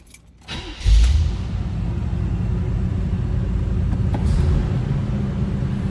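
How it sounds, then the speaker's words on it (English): A 1978 Chevrolet Corvette Pace Car engine catches after a brief crank and settles into a steady, fairly loud high idle on a cold start, its low rumble holding continuous with no talk. "Was a cold start, so the choke may stay on a bit here, a little higher idle"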